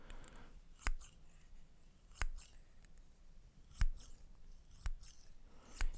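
Scissors snip sharply five times at an even, unhurried pace, each crisp metallic cut standing close and alone against a faint hiss.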